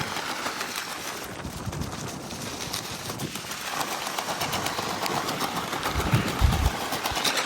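A tractor engine runs steadily with a rattling, chugging drone that stays even throughout, loud and close.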